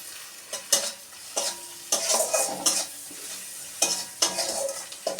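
Chopped capsicum tossed in a frying pan while cooking egg devil, with repeated spatula scrapes and clatters in irregular bursts over a soft, close sizzle; no one speaks.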